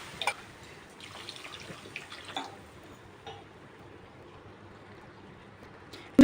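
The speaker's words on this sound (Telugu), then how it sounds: "ఇప్పుడు ఒక కప్పు 2 గ్లాసెస్ వాటర్ తీసుకున్నాం" Water is poured into a cooking pot of mushrooms for pulao, a soft, quiet splashing and trickle with a few small clinks, ending in a brief louder knock.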